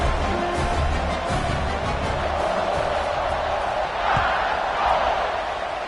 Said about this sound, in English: You think this crowd's going to get loud when their defense comes on the field?